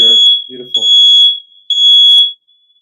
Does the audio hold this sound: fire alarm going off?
yes